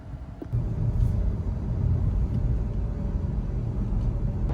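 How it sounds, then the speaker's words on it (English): Rivian R1T electric pickup cruising on the I-85 highway in conserve mode, heard as a steady low road rumble and tire noise from inside the cab, with no talking. "So we're now cruising along in conserve mode on I-85."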